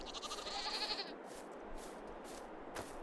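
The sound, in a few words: sheep bleating in Farming Simulator 22 video game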